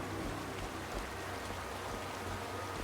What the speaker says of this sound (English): Also noticed it's raining